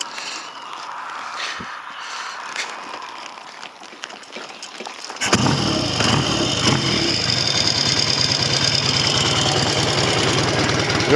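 A Norton 650 Unified Twin prototype motorcycle fires up after a few quiet seconds of clicks and handling, then runs loud and close with a rough, steady twin-cylinder roar.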